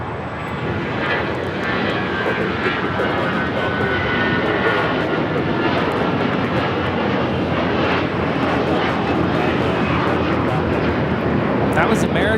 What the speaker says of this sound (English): 1672 taking off to Dallas Fort Worth on the A321